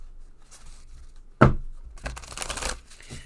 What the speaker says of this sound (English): Good shuffle.